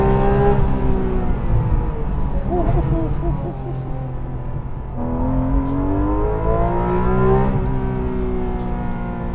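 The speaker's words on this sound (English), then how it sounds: "just listen to the naturally aspirated flat 6 motor" Porsche 911 GT3 RS naturally aspirated flat-six on a racetrack heard from inside the car, a loud high-revving wail climbing through the gears with brief dips at shifts, strong and close for the whole stretch.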